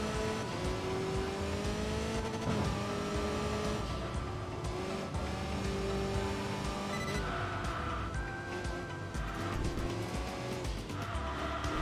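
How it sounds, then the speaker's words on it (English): Saab race car in Enthusia Professional Racing, its engine note steady and loud throughout with gear changes and a faint whooshing turbo blow-off valve mixed in, with game music or effects and no talk. "You get a little bit of that blow-off valve as well."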